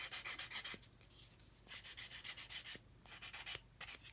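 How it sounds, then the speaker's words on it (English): A 400-grit sanding stick scrapes flash from the edge of a plastic model kit part in several quick back-and-forth bursts with short pauses between, close and fairly quiet, with no talking. "I'm going to take my 400 stick, just sand that away"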